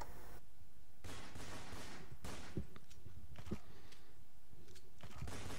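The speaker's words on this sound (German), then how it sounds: "Ja, Schüsse." Gunfire in the multiplayer game Counter-Strike: Source, a few faint, scattered bursts of gunshots spread across the clip over a quiet background hum, with no talk.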